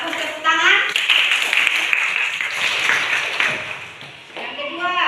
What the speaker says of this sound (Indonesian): Nah, bagus, tepuk tangan.